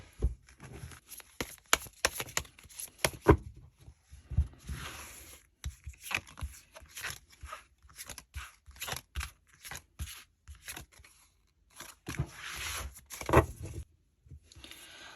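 Tarot cards shuffled and drawn during a reunion-themed reading: dense papery riffling and flicking bursts with soft slaps and crinkles, close and fairly quiet, running in irregular spurts with brief pauses and no talk.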